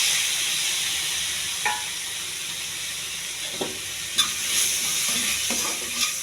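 Raw banana pieces fry in a pan, giving a steady sizzle with a few scraping stirs now and then, close by and with no voices.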